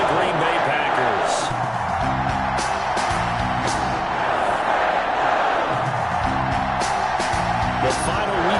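A stadium crowd rumbles at a Detroit Lions versus Green Bay Packers game in an EA Sports NFL video game, a steady roar beneath a commentator's continuous talk, with occasional sharp thuds.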